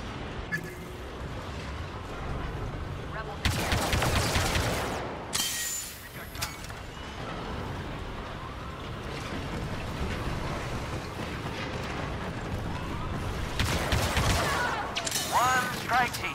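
Blaster fire from the Star Wars Battlefront 2 video game on Sullust comes in loud bursts of sharp zapping shots. Swelling clusters stand out at the start and end over constant combat noise, with game voices talking in between.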